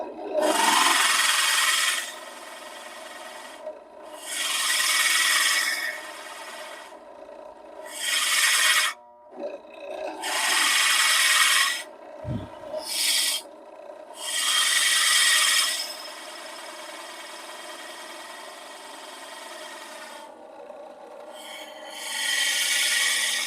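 A hand woodworking tool cutting chips from wood, giving bursts of loud rasping scrapes, each lasting a second or two and separated by short pauses, close up with no talking.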